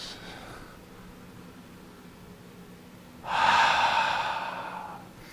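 Slow breathing during a gentle tai chi qigong flow: a soft, faint breath early on, then a louder, close airy exhale lasting about two seconds with no talking.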